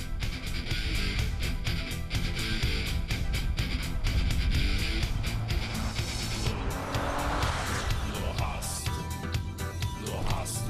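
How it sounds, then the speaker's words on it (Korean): An ordinary passenger car accelerates hard during an acceleration test. A loud, continuous engine roar builds steadily with a rising pitch and rapid pulsing, heard up close, and some tire noise comes through near the end. "이번엔 일반 승용차의 가속 능력을 테스트해봤다."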